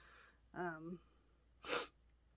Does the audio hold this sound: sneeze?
yes